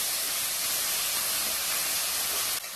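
Ginger garlic paste and tomatoes sautéing in a pan give a loud, steady, close sizzling hiss that runs unbroken for nearly three seconds before dropping off slightly at the end, with no talking.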